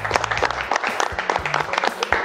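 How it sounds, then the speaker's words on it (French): Studio audience applause on a French television cooking and game show, dense clapping at moderate loudness with some voices mixed in, lasting a couple of seconds. "On l'applaudit ou pas? On peut l'applaudir."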